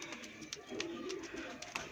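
A young surkha pigeon chick gives faint, soft repeated cheeping calls close by, brief chirps over a quiet background.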